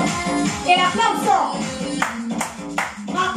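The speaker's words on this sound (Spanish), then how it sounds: "El aplauso." Sharp hand claps in an aerobics class, about four crisp claps spaced roughly half a second apart late in the stretch, over steady rhythmic dance music.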